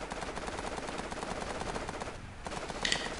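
Rapid automatic gunfire in the military shooter game Operation Flashpoint, a dense continuous burst of shots lasting about three seconds, loud and close, with a brief dip near the end.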